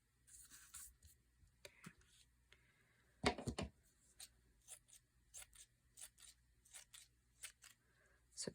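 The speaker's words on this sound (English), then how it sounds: "So pinking shears, score 1 for pinking shears." Pinking shears snip through fabric in a run of close crunchy cuts, with one louder cluster of snips near the middle and softer rustling handling between them.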